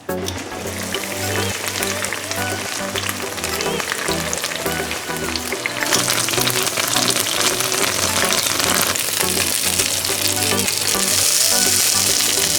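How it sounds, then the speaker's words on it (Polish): Meat-filled gyoza dumplings frying in a pan with oil, a steady loud sizzle and crackle that grows more intense partway through. "pierożki się jeszcze smażą, bo chcę, żeby były takie, wiecie, bardzo brązowe od spodu i chrupiące"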